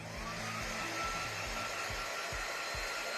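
A hair dryer-like blower drying paint on a DIY mini stocking, a steady close whooshing drone that holds without a break.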